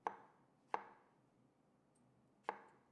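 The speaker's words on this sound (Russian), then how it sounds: "Делим гриб пополам, далее на небольшие полоски" A knife chops button mushrooms into small cubes on a cutting board, giving three sharp, close knocks with a pause between the second and third.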